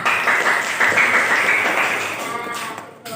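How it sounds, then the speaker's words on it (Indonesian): A classroom of students applauds together after finishing a group practical lesson, a steady broadband clatter of clapping hands held for about three seconds and tapering slightly near the end, with faint voices mixed in. "Maka tepuk tangan untuk kita semua."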